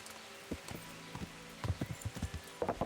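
Horse hooves clip-clopping in the medieval game Kingdom Come: Deliverance, a run of soft, moderately close thuds in an uneven rhythm that gets busier toward the end, with no talk over it.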